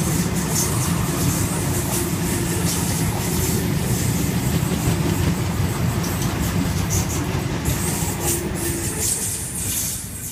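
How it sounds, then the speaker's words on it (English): A Sydney Trains Waratah A-set, unit A66 on a Blacktown service, rolls past Macdonaldtown with a continuous loud rumble, rail clatter and occasional wheel squeal, steady throughout and easing slightly at the end. "Blacktown service, Waratah A66 now passing."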